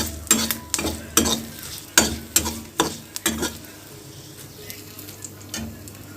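Tempering spices sizzle in hot oil in a home kitchen, with a series of sharp clattering stirs early on, then a steady crackling fry that fades lower.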